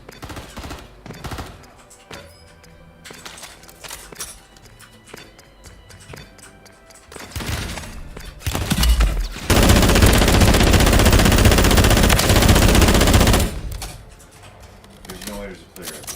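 Gunfire in a fast-paced FPS video game: scattered sharp shots and clicks give way to a long, loud sustained automatic burst, then sparse shots return.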